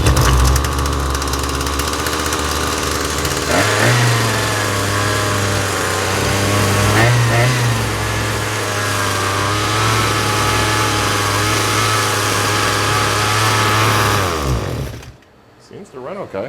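A trash-picked Husqvarna 223L string trimmer runs at a steady high speed for about fourteen seconds with no trimming spindle fitted, giving a loud, continuous buzzing drone with slight rises in pitch before it cuts out abruptly near the end.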